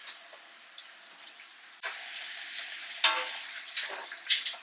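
Bacon rendering and eggs basting in a cast iron pan, a soft sizzle that bursts into louder, crackling frying in surges, with a brief hiss like water hitting hot metal.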